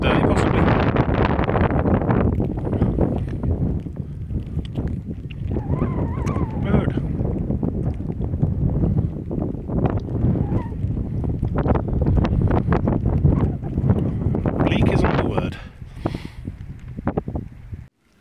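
Strong gusting wind buffeting the microphone on an exposed hilltop along the South Downs Way, loud continuous rumbling and roaring that eases near the end, with faint speech and footsteps beneath it.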